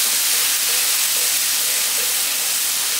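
Garlic and ginger sizzle in a hot pan, a steady, loud, bright hiss that carries on evenly without pause and with no talking.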